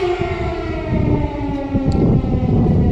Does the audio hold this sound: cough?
no